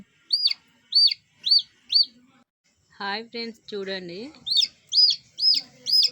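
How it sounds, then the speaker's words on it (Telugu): A newly hatched chicken chick, hatched from eggs kept at home in a bowl, cheeps in a steady series of sharp, close, high chirps, pausing while a person speaks briefly, then resuming. "పిల్ల అయితే బయటకు వచ్చింది కోడి పిల్ల"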